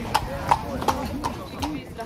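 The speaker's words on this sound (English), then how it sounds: "Clippity clop, clippity clop." Horse hooves clip-clop on a street in Bruges in a steady rhythm of about five hoofbeats, moderately close, with someone talking over them.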